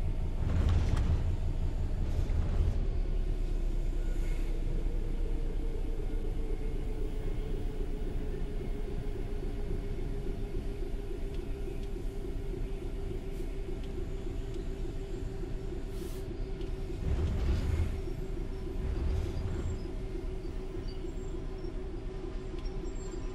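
A Class 66 diesel locomotive in Train Sim World rumbles steadily with a low droning engine note that holds throughout, swelling with louder heavy bursts near the start and again later.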